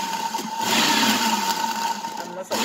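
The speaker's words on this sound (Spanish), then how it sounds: "a licuar la coliflor." A kitchen blender whirs steadily while blending cauliflower for a low-carb keto soufflé, with a continuous motor whine that rises and holds for a couple of seconds before cutting out near the end, talk faintly beneath it.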